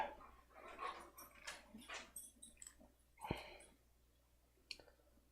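A dog playing indoors in a room at night, with scattered soft scuffles, clicks and faint whimpering bursts that come and go over a few seconds, fairly quiet and close.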